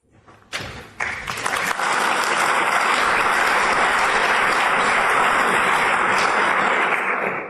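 A lecture audience breaks into applause that swells from a few scattered claps into steady, loud, sustained clapping filling the hall.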